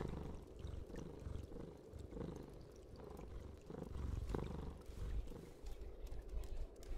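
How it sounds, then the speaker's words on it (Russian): A cat purring in the video game Stray, a soft low rumbling purr that rises and falls in slow rhythmic cycles, steady and close, alone without any talking. "Кто мурлыкает?"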